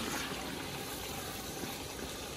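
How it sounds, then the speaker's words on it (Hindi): Water poured steadily into chicken in a cooking pan for a kachnar chicken dish, a continuous close hissing gush lasting a couple of seconds without speech. "ये मैं थोड़ा सा गलाने के लिए पानी डालने लगी"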